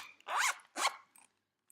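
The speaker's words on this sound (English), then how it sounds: "I'd have to zip it back up" Zipper on a wallet being pulled closed, heard as two quick rasping zips close by, followed by a faint short rustle, with no talking.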